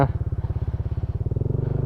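An adventure motorcycle's engine idles close by with a steady, rapid pulsing thump, ticking over loud and even throughout on a rainy outing in Capiz.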